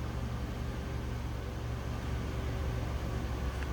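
A low-mileage 1998 Chevrolet Monte Carlo Z34 with the 3800 V6 idles smoothly from behind the car, a quiet, even low hum with no revving.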